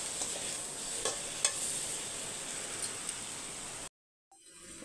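Potatoes frying with garam masala in a pan, a steady close sizzle with a few light stirring clicks, then a sudden brief cutoff to silence before a faint return.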